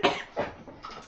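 A person coughs indoors in a short, close burst of two or three rough coughs, fading into quieter breathy noise.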